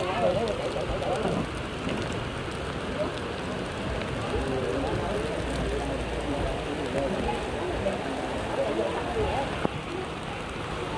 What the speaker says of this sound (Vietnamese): Mưa tới luôn rồi